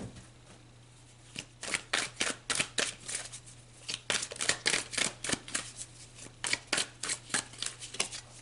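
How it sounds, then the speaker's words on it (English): Tarot cards shuffled close up in repeated quick riffling bursts, each a crisp papery flutter, arriving in irregular clusters against a low steady hum, no voices. "Let's pull some more cards."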